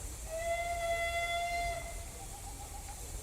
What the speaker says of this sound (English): I never heard a whistle like that before.